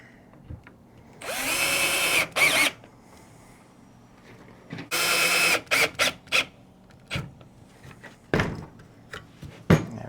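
Power drill driving screws into angle iron on a homemade no-till crop crimper, with two long whirring bursts that rise in pitch, a few short trigger pulses, and clanks and knocks in between.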